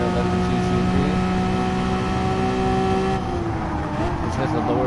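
A Porsche 911 GT3 on a race track gives a loud, steady engine drone that is held and then drops in pitch partway through. No one speaks.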